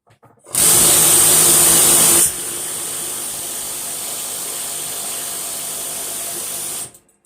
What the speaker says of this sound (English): Let's get behind it with the air chisel.